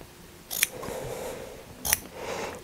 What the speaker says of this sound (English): cut out some little triangles.